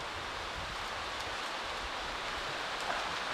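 Strong wind rushes through forest trees ahead of a storm, a steady, moderately faint roar of rustling foliage with no voices.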